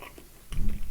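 Pickled beet slices bitten and chewed close up, a quiet start giving way to a burst of wet, squishing chewing in the second half, with no talking.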